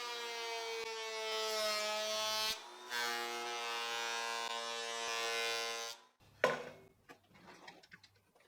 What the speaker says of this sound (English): Now I'll run everything through the planer.